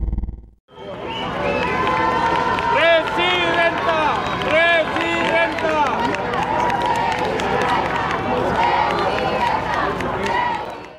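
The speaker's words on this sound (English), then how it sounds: "Crowds shouting Presidenta in a video from the AFP news agency" A large crowd in Mexico chants and shouts "Presidenta" in rhythmic waves, loud and sustained for about ten seconds after a brief silence.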